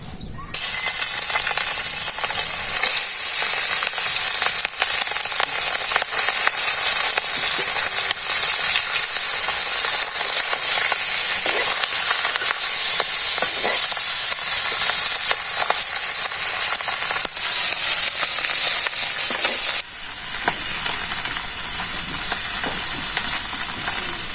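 Leafy greens stir-fry in mustard oil in a village kitchen, a loud constant sizzle and hiss close by, broken by scattered scrapes and clinks of stirring throughout.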